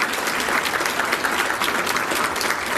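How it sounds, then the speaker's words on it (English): Loud, continuous round of applause from the audience at a chamber of commerce state-of-education event, many hands clapping in a steady wash without breaks. "help me give them a round of applause."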